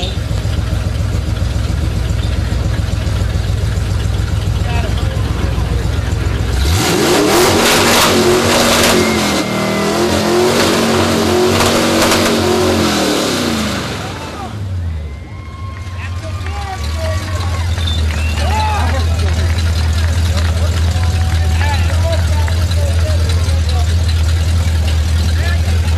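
Ford truck engine with open headers at a hot rod and muscle car open header contest, revving hard and loud for several seconds, then dropping back to a steady idle, with crowd noise and talk around it.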